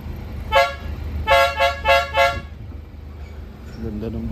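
A car horn on a small automatic hatchback gives one short toot, then four quick beeps in a row over an idling engine, with a voice starting at the end.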